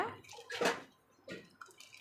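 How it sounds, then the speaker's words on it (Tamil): Water pours and splashes briefly into a pot of chickpea curry in a couple of short gushes, close and fairly quiet. "உங்களுக்கு தேவைக்கு தண்ணி சேர்த்திக்கோங்க"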